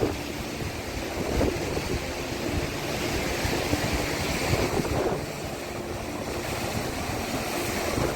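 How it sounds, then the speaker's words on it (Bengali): Rough, high-tide sea waves roll in on Mandarmani beach, a continuous loud surf roar with repeated breaking swells and some wind buffeting the microphone, no voices present. "সমুদ্র এখন উত্তাল, কারণ এখন জোয়ারের টাইম, তাই বড় বড় ঢেউ দেখা যাচ্ছে।"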